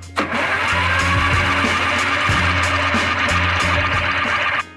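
A Yamaha Phazer snowmobile left sitting outside for ten years is cranked with the key, giving a loud, continuous rhythmic turning-over chug from the starter and engine that runs for several seconds without catching, no voices.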